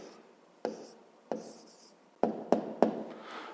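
A pen writes an answer to a fifth-grade math exercise on paper, giving soft scratchy strokes broken by several sharp taps as it lands, close and quiet, with no talk.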